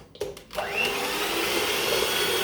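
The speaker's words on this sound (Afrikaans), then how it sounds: "En dan gaan ons hierdie net klits." An electric mixer whisks an apple tart batter of eggs and vanilla essence, starting with a few short bursts and then holding a steady, loud whirring drone.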